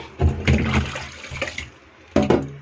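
Water from a tap splashes in bursts as cut fish pieces are rinsed, with loud gushing spells broken by a short quieter trickle, close and alone without talk.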